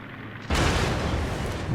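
Main battery guns of the cruiser Baltimore fire in World of Warships gameplay: a sudden heavy boom that rolls on into a sustained, loud, rumbling blast with no voices.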